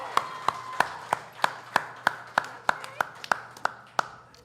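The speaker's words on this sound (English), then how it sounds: "So y'all give it a round of applause for Miles" Sparse, evenly spaced hand claps from a small live audience at a podcast show in a Nashville venue, about fourteen crisp claps in a steady rhythm, fairly faint against a quiet room.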